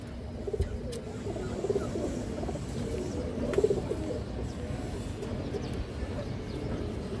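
Soft, low cooing comes from a boot-beaked Sobji female pigeon, a few gentle burbling bouts spaced out over a steady, quiet background hum.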